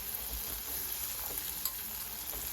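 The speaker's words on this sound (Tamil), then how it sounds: "நல்லா சீக்கிரம் வதங்கட்டும்" Food sautéing in a pan while cooking red rice-flake kozhukattai: a soft, steady sizzle and hiss that stays even throughout the short stretch, fairly quiet, with no voices.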